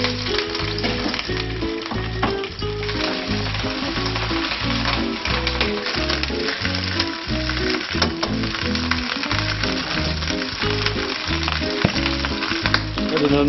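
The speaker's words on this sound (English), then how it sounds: "I'm going to put this fish in and just braise it for a couple of minutes" Fish sizzles and fries in hot olive oil with garlic, a loud, continuous crackling spatter that stays up close and steady throughout with no talking.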